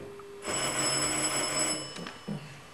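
Old-style telephone bell ringing loudly in a room, one long trill that stops after about a second and a half, followed by a brief clatter.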